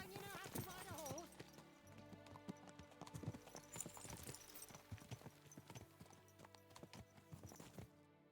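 Horse hooves clip-clop in a steady gait in Kingdom Come Deliverance 2, close and clear, with a brief neigh near the start and game music underneath.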